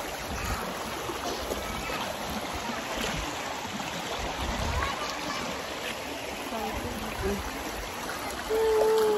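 A clear, cold stream in Japan flows and trickles steadily nearby in summer, a continuous watery rush with faint splashes.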